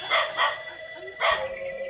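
A dog barks outdoors near a mound, two quick close barks followed by another, loud and sharp over faint background noise.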